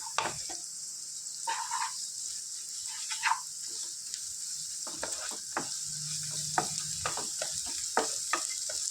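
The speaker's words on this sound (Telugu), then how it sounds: "అల్లం వెల్లుల్లి పేస్ట్ పచ్చివాసన పోయేంత వరకు ఫ్రై చేసుకుందాం" Ginger garlic paste and turmeric fry in a pan with a steady bright sizzle, punctuated by repeated scraping and clinking stirs of a utensil, alone without talk.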